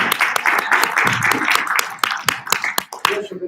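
An audience gives a speaker a round of applause at an event, dense steady clapping from many hands that thins out into a few scattered claps toward the end.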